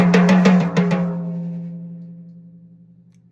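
Drum toms are struck alone in a quick descending run of a few hits, the last tom ringing out with a long, booming tone that slowly fades over several seconds.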